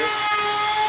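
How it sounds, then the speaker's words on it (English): A small trim router fitted with a laminate trim bit runs steadily in a home kitchen-building shop, a continuous high whine held close and loud for the whole moment with no talk. "little trim router, put a little brush trim laminate bit on there"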